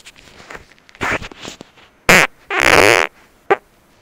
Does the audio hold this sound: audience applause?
no